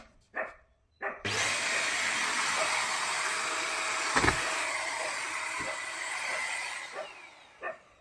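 An Agaro Regal handheld vacuum cleaner with a brush attachment runs with a steady, loud motor whine for about six seconds after a couple of short clicks, then switches off, with a few brief knocks around it.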